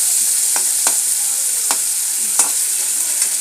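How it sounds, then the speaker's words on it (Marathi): Tomatoes sizzle steadily in a pan as village-style cowpea leaf curry is cooked, with sharp scrapes of a spoon stirring them every second or so, close by and without talk. "टमाटर लाल भाजून घेऊ आपण."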